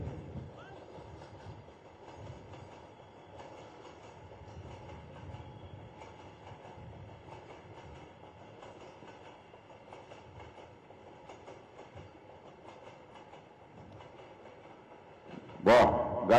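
A train rolling past near Mankapur, Gonda, a low continuous rumble and rattle with faint wheel clatter under crowd noise at an outdoor public meeting, ending in a brief loud burst.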